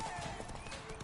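Hooves of Roach the horse clop in The Witcher 3, brief quick hoofbeats mostly masked by someone talking over them.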